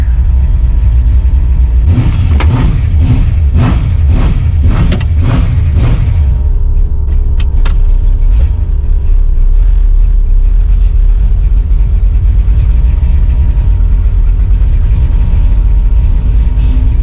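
An LS-swapped Chevrolet S10 truck races, its loud engine roaring through several rapid revving pulses, then settling into a steady, sustained drone under a continuous broadband rumble.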